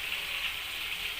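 Garlic and shallots frying in a pan for sambal pecel lele, giving a steady, bright sizzle with a crackling hiss that stays close and even, without any voices.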